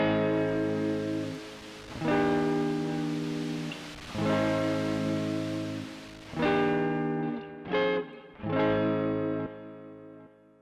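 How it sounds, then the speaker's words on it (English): Clean guitar chords ring out in a slow progression, each sustained and then cut, with a soft hiss of added white noise blended underneath for a vintage tone. "Increasing the input noise level will blend in some white noise along the source, giving a very nice vintage effect."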